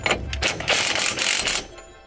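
A torque wrench clicks repeatedly as it reaches spec on a suspension bolt of a Nissan 240SX during an angle kit install, a run of close, loud ratcheting mechanical clicks lasting under two seconds.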